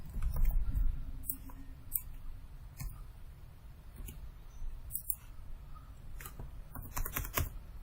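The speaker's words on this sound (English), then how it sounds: "just keep on typing" Someone types on a computer keyboard at a desk while modelling a house in Revit. Irregular bursts of key taps and clicks sit over a faint steady room hum.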